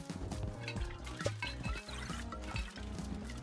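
Watery splashes and drips in the video game Moving Out 2, several short liquid bursts over game music without speech.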